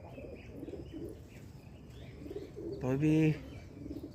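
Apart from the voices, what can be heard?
pigeons cooing on rooftop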